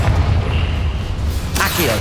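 A Confringo fire spell blasts in Hogwarts Legacy: a sudden, loud whooshing burst erupts late in the moment over a low, rumbling game backdrop.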